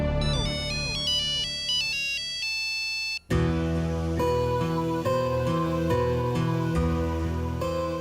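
A loud electronic ringtone melody plays continuously, with a brief pause partway before a fuller, busier tune resumes.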